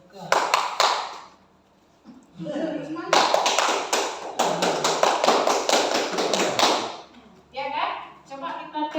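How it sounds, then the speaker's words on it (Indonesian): Indonesian scout-style group clapping (tepuk pramuka) by a seated audience at a teachers' dissemination session: loud, close rhythmic bursts of many hands in set patterns, with pauses and a voice calling between rounds. "Tepuk pramuka."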